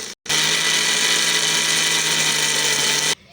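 A blender whirring continuously at high speed as it mixes homemade mayonnaise ingredients with garlic, a loud, steady motor whine that starts abruptly after a brief gap and cuts off sharply at the end.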